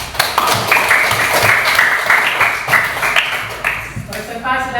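Audience applause following a student group's presentation, steady clapping with voices mixed in throughout, fading toward the end.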